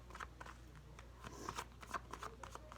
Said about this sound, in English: we'll do one more shuffle here